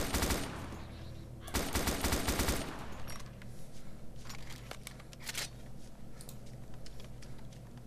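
Gunfire in Arma 2 DayZ: two loud bursts of rapid automatic shots, then several scattered, quieter single shots and short volleys over a continuous background.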